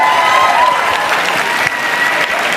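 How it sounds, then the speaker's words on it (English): Steady crowd applause at a beauty pageant crowning night fills the clip, dense clapping with a faint voice over a PA partly audible beneath it, loud and continuous throughout. "One more time, big round of applause."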